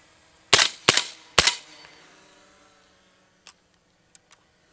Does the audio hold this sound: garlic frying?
no